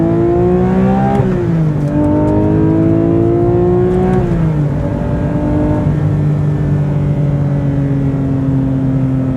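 A Porsche GT3 with a Manthey Racing kit pulls hard from inside the cabin, its engine note climbing steadily. Sharp blips mark quick downshifts before it settles into a lower drone, loud and continuous with no talk.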